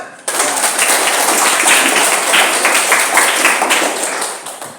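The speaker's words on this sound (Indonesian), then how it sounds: "Oke, tepuk tangan." Classroom of schoolchildren clapping hands together, starting abruptly and continuing as a loud, close, slightly uneven burst before tapering off.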